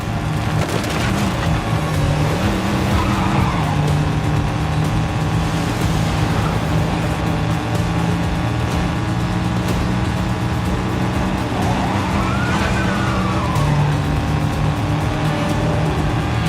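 Racing engine roar from a car chase in the 007 First Light video game, loud and continuous throughout with shifting engine pitch and occasional rising whines, layered with game music and effects.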